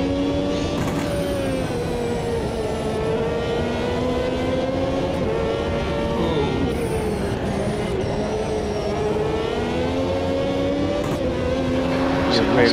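Ferrari 333SP race car engine in the racing game Automobilista 2, a steady high-revving drone with rising and falling pitch as it shifts, loud and continuous throughout under occasional talk.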